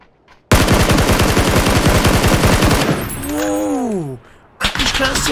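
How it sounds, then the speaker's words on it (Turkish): Rapid automatic gunfire in the battle royale game PUBG, a loud sustained burst of dense, evenly spaced shots that stops abruptly, followed by a rising-and-falling whooshing effect, a brief gap, then another loud burst. "60 kere sıktı"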